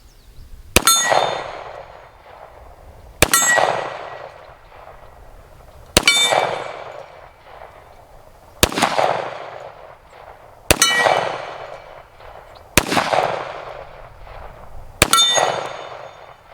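Seven loud .45 shots from a Springfield Operator 1911 pistol strike swinging steel targets, each a sharp crack followed by a bright ringing clang that fades, spaced about two to three seconds apart.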